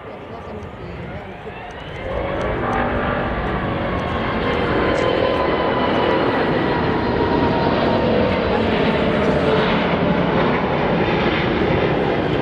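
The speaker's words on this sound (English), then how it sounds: "This A380 had an unstable approach, causing it to go around." Emirates Airbus A380 going around after an unstable approach in a crosswind, a loud, steady jet engine roar that swells after a couple of seconds and holds as a broad sustained rumble.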